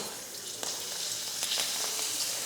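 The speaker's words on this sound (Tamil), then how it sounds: "எண்ணெய் காஞ்சதுமே அப்பளம் முதல்ல பொரிச்சு எடுத்துடலாம்." Appalam fries in hot oil in a kadai, a steady bright sizzle with scattered crackles and pops, close and continuous, with no one talking.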